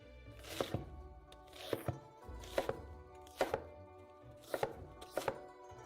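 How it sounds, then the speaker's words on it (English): A knife chops an onion into large pieces on a cutting board in a noodle recipe: sharp, close wooden thunks falling in quick pairs and triplets, repeated in a steady rhythm. "cut the onion into large pieces"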